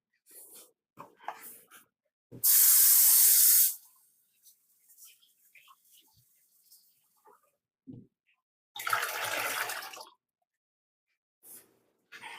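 Two bursts of running tap water, each lasting about a second, splash over seasoned fish being rinsed, separated by quiet handling clatter.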